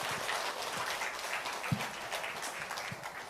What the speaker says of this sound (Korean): 우리 뜨겁게 영광의 박수 하나님 앞에